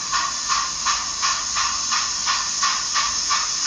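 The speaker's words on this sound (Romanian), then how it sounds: "Așa simțeam locomotiva, eu cum auziți acum." A steam locomotive hisses continuously, with a pulsing rhythm of roughly two to three surges per second, loud and close, with no voices over it.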